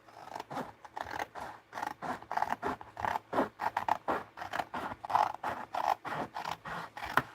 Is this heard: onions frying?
no